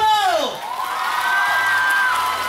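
Teachers and students at a school quiz-game event cheer together, with loud whoops and high shouts sweeping up and down over a sustained crowd roar.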